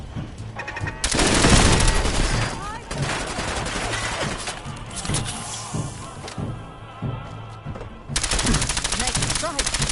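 Loud rapid automatic gunfire in Fallout 4's Nuka-World crackles in long bursts near the start and end, with thuds in between and a player speaking over the fight.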